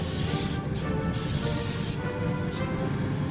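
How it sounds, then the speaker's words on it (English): Olive oil sprayed onto food before air frying, a continuous close hiss with a few brief pauses between bursts. "we need to spray this side with our olive oil"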